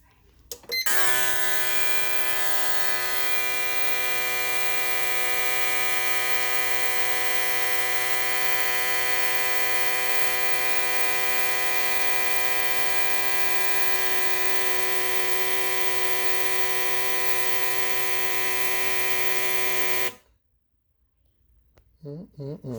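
Bosch EV14 95 lb 1000cc fuel injectors run a static flow test on a test bench, giving a loud, steady buzzing hum with strong harmonics for about twenty seconds before cutting off abruptly into near silence.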